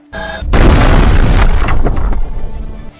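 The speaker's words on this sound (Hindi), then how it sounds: "एक बहुत बड़ा धमाका होता है" A single loud explosion from a car blast bursts out after a brief quiet moment, its deep rumbling boom rolling on for a couple of seconds before cutting off.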